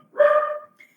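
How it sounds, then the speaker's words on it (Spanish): A single dog barks once, short and clear and fairly near, then a faint yip trails after it in an otherwise quiet room. "no sé si se sienten los ladridos de mi perro"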